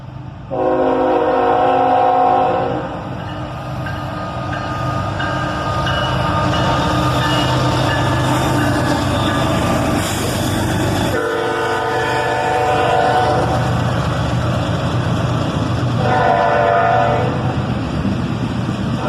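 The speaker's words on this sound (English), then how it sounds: "4 locomotives on this guy. An ET44AH, a pair of ES44DCs, and an ES44ACH." A freight train hauled by four locomotives, an ET44AH, two ES44DCs and an ES44ACH, rumbles past on a main line, loud and close throughout, with rolling wagon noise and several long horn blasts.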